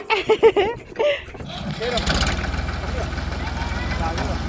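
A person speaks briefly, then a tractor engine chugs into a steady, low, throbbing idle close by in a farm setting.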